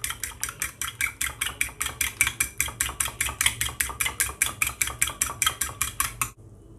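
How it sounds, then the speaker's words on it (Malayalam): A whisk or fork beats an egg and milk mixture for keto fried chicken, about thirty quick, steady strokes clattering against the bowl, close and alone, then stopping abruptly. "ഇതൊന്ന് നന്നായിട്ട് ബീറ്റ് ചെയ്തെടുക്കാം."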